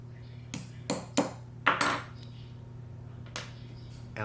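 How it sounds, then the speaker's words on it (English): Sharp metallic taps ring out as a pin is knocked from a Garmin Fenix titanium watch band, several close strikes in quick succession with pauses between, followed by a later single tap. "find the correct direction of the arrow, and then knock the other side out."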